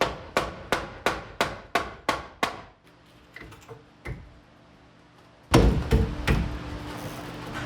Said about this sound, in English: So I'm just gonna hammer this out.